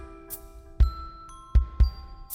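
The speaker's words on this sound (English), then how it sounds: "At the sound of the bells," Bells strike three times, each a sharp clang with a shimmering tone that lingers and overlaps, ringing clearly against a quiet background.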